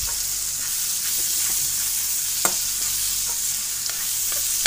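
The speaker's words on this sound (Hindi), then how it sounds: "अभी हमने इसमें टमाटर शामिल कर दिए और इसको पका रहे हैं" Onions and tomatoes fry with a steady sizzle in a pan, close and continuous, with scattered scrapes and taps from a spoon stirring throughout.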